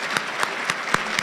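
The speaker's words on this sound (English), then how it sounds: "Let's give another round of applause to both Please and Denver" Applause at a scholarship appreciation banquet comes as several sharp bursts with short gaps between them rather than a continuous roar.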